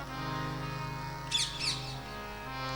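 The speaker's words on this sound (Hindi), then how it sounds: "और ये राधा जी के दरबारी तोता भी कहे जाते हैं" A parrot lets out two short, sharp chirps in quick succession, standing out briefly above a steady, droning tonal background.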